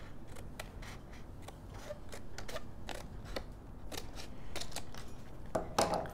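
Scissors cut paper for a display box, a quick series of crisp snips with short pauses between them, close and fairly quiet with no voices.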